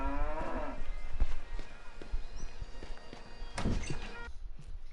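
A cow in The Bard's Tale video game lets out a long, loud moo, followed by a second lowing call later, over a steady game ambience with faint footstep-like clicks.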